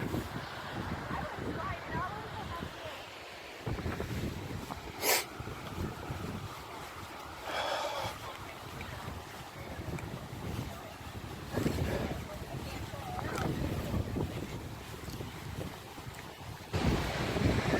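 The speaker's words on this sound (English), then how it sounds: "Here's the beach. We made it. We made it to the ocean." Wind and ocean waves on a beach at Indiana Dunes, with steady gusty wind buffeting the microphone and surf washing in and out, loud and close throughout.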